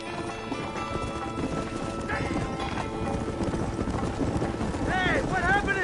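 Horses gallop in the video game Red Dead Redemption, a rapid thudding of hooves under background noise, with a horse whinnying loudly near the end.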